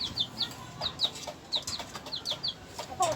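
A small mother hen in a backyard flock clucks in a steady run of short, close, repeated notes, with a louder squawk near the end.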